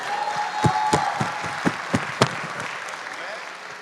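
An audience claps for performers at a half-time show, a burst of applause heard close and loud with sharp individual claps, mixed with some voices.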